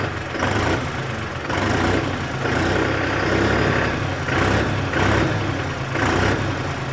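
A 5510 Excel tractor idles in neutral nearby, a steady low diesel rumble with a pulsing rhythm that swells roughly every second.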